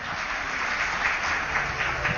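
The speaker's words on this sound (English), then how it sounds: "big round of applause for Smriti Irani ji and also Mr." Applause from an award-ceremony audience, with dense, steady clapping that fills the hall evenly from start to finish. No voice rises above it.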